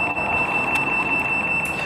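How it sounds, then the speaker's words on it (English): A Chamberlain garage door opener wall panel gives a warning tone as the door begins closing remotely, heard as a steady high electronic note held throughout over a continuous background hum. "you will actually have the garage door panel beep as the garage door is closing"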